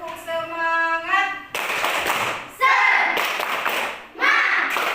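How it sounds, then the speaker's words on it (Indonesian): A school class performs tepuk semangat, bursts of rhythmic group clapping in short sections alternating with children chanting together. "Kita tepuk semangat dulu ya."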